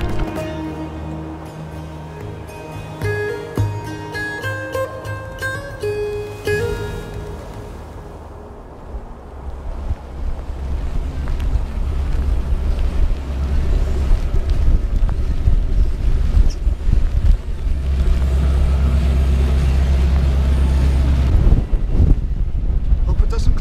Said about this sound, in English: The front of the storm had already reached the coast, serving me 35 knots of westerly gale straight on my beam.